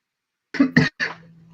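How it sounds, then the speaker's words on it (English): Someone coughs three quick times close to the microphone during an online awards ceremony, short sharp bursts with a faint tone lingering after the last one. "caught you on the cough"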